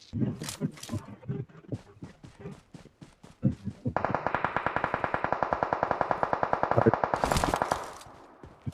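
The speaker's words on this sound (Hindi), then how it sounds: "पर गोली चला रहे हैं।" Gunfire in a multiplayer shooter video game: scattered single shots, then a long, rapid automatic burst lasting several seconds, loud and close, with a player's voice talking over it.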